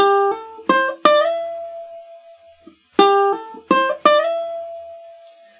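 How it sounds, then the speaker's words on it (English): Ukulele playing the lead riff of a song, a few plucked notes picked in quick groups with slides and one held ringing note, two phrases separated by a short pause, close and clear. "Riff 2 is the lead guitar line that goes over the top of the intro riff"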